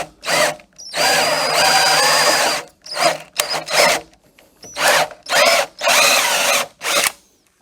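A handheld power drill boring holes into a block while installing a rail, running in several loud, close bursts of whirring separated by short pauses.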